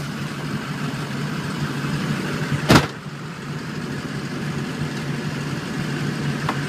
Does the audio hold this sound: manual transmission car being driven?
yes